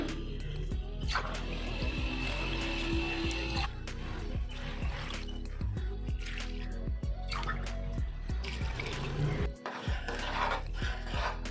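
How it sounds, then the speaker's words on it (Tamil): Water is poured from a tumbler into a cooking pot while making vegetable bisibele bath, a close, continuous splashing and trickling that runs for several seconds with a brief dip near the end. "இதில் இப்போ நான் 5 டம்ளர் தண்ணி விட போகிறேன்."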